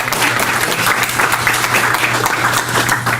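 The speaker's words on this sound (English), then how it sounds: "Would you all give her a round of applause for her doing a good job?" Steady applause from an audience at a public meeting on sustainable water policy, many hands clapping at an even level for a few seconds with a low hum underneath.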